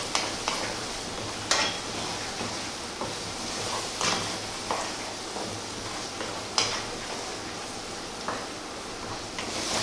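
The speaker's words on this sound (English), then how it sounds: "stirring pretty much all of the time" A spoon stirs ground cashew nut sauce in a hot pan for butter chicken, with repeated scraping strokes at an irregular rhythm over a continuous soft sizzle, close and fairly loud.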